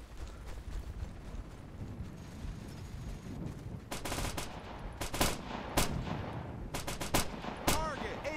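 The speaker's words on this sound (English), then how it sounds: "Shots fired." Gunfire in the combat video game Operation Flashpoint: Dragon Rising, where irregular bursts of sharp shots and clattering weapon mechanics sit over a steady rumbling battlefield background. The volleys grow denser and louder toward the end.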